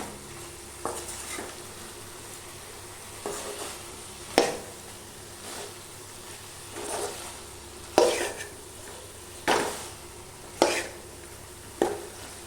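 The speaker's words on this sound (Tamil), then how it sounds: "இந்த மசாலாலாம் இந்த முருங்கைக்காயில் பிடிக்கிற வரைக்கும் இப்படியே வெந்துக்கிட்டு இருக்கட்டும்" Drumstick pieces cooking in masala in a pan, a low steady sizzle broken by about eight scattered scrapes and clinks of a spoon against the pan, close, with no talking.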